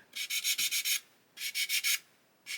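Hand sanding the plastic of an Airfix 1/72 Lancaster B.III model kit: two bursts of quick, even rasping strokes, about six each, then a third stroke starting, close and fairly quiet.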